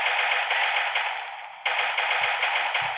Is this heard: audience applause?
no